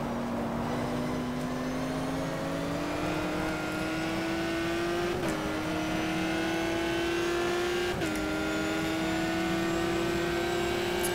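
The engine of a Ferrari 575 GTC racing car drones at Monza in GTR 2, a steady loud tone climbing through the gears with two brief upshift breaks, no voices over it.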